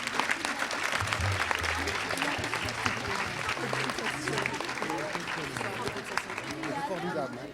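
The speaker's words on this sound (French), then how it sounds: "On applaudit le principal." Audience applause for the school principal at a sixth-grade school music show in Toulouse, a sustained crowd of clapping hands filling the hall with a voice speaking over it.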